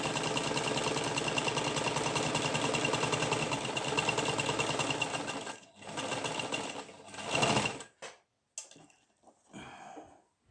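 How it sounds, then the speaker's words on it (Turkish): A Singer 298 tabletop sewing machine stitches in zigzag mode, a loud, close, fast rhythmic mechanical chatter that runs steadily for over five seconds, pauses, resumes briefly in short bursts, then stops. "Bir kere daha daldırıp çıkarıyoruz iğneyi. makinenin zikzak modunda."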